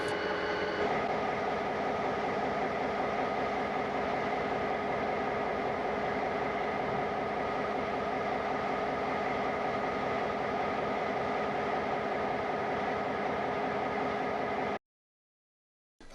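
A steady, dense rumble with a constant hum holds throughout, fitting an idling EMD SW9 switcher locomotive, number 291, parked at the Bethlehem rail yard. The sound stays even and unbroken, then cuts off abruptly near the end.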